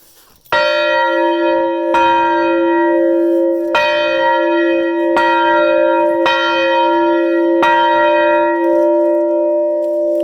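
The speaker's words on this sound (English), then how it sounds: "give this bell a little ding-a-ling just because it's one of my favorite sounds in the whole world" A large bell rings loudly and repeatedly, each deep resonant strike roughly every second or two, its hum sustaining and overlapping the next.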